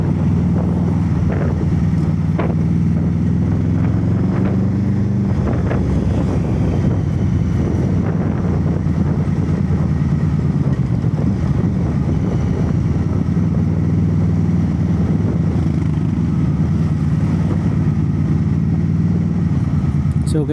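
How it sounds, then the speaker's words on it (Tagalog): A motorcycle's loud exhaust drones steadily and close throughout, a low rumble mixed with wind buffeting, while someone talks over it. "ang ingay pa naman ng tambucho nitong motor na to"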